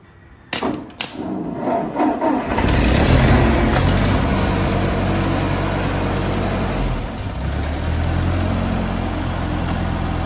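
An old Ford tractor being started: a few clunks and a cranking starter, then the engine catches and settles into a loud, steady low rumbling idle close by, with no talking.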